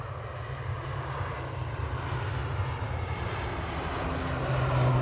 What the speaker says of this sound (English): Gota on the roll now to Guernsey with flight 679, ATR 72-600 for Arini.